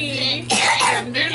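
A person coughs once, a short harsh burst in the middle, with background voices and room noise around it.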